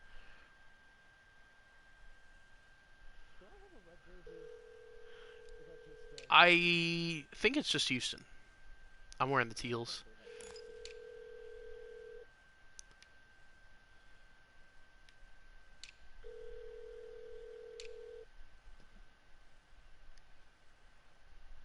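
An outgoing phone call rings through with several long, steady ringback tones separated by pauses, while people talk nearby.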